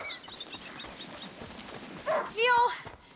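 A hunting dog in the video game A Plague Tale: Innocence gives a short bark followed by a high, wavering whimper, close and fairly loud over quiet game ambience.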